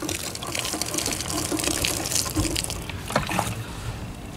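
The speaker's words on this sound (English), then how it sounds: "add some water" Water is poured onto a ketchup-stained Saucony Originals Grid 9000 sneaker, giving a steady close splashing trickle with small surges of gushing.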